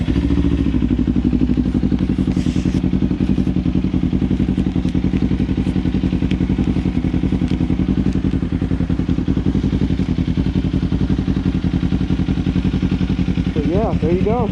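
Kawasaki Ninja 500 motorcycle engine running at a steady, loud idle throughout, a continuous low rumble with rapid firing pulses and light mechanical clatter, close by.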